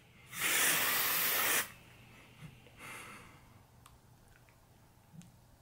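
A bottle of Axe Anarchy cologne gives one close, loud spray burst of about a second, followed by a couple of faint, short puffs and small handling clicks.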